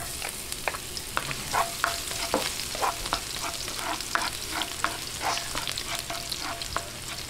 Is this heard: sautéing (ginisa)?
yes